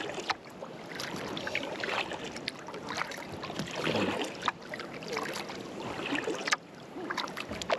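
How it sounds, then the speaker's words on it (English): A canoe paddled on the Suwannee River at about four miles per hour, with soft irregular paddle splashes and water lapping against the hull under faint wind noise, fairly quiet and close. "We're paddling about 4 miles per hour right now."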